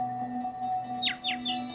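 A male superb lyrebird sings loud descending whistled notes, two quick sweeping calls then a higher one, over a steady droning hum in the background.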